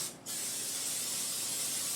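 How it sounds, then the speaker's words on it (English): A short pause, then a continuous, close hiss of Pam cooking spray from an aerosol can onto a pan after browning pork tenderloin, holding steady to the end. "Now I'm going to spray with Pam"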